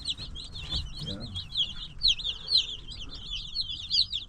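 Baby chicks peep constantly in quick, high, overlapping chirps, close and fairly loud, while a brief low voice murmurs underneath near the start.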